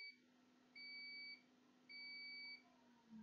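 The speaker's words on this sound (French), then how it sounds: "Et ici ça devrait biper normalement. Donc là ça bip bien." Two steady high-pitched electronic beeps from a multimeter continuity test on an iPhone 6 motherboard, each lasting about half a second, over a faint low hum.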